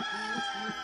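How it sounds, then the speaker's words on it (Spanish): Rooster crowing at dawn, a brief sustained call heard at moderate distance with no talking. "pero los primeros gallos anunciaban ya el amanecer."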